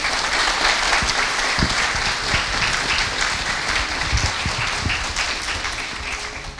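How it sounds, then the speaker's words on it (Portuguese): A church congregation at a Sunday service claps together in a loud, continuous round of applause that fills the room and then gradually eases off toward the end, with no speech over it. "Você pode aplaudir Jesus mais uma vez?"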